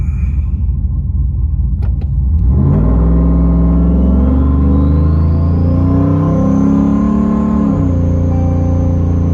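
A fully warmed-up car engine fitted with a remote-mount turbo idles close by, a steady low rumble with a brief rev near the start and a rising whine above it, with no talking.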